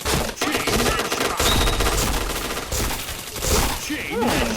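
Rapid bursts of APC9 gunfire in a video game, with dense automatic shots rattling almost without pause for several seconds, loud and close.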